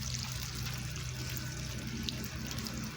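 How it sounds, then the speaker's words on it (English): Water running and dripping steadily off the side of a house during pressure washing, a continuous wash of splashing and trickling with a low hum underneath, no voices. "Look how that's dripping off of there."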